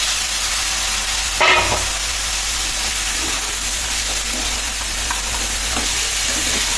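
Onions and pointed gourd fry with turmeric in a pan, giving a steady loud sizzle and hiss close by, broken by one sharp clatter of a utensil and a few soft stirring scrapes, with no talking.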